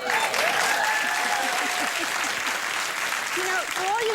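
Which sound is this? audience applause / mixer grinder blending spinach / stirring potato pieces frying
audience applause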